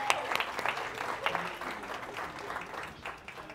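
Audience applause for volunteers at a church gathering, a wash of many hands clapping at moderate distance, steady then easing off, with some voices mixed in.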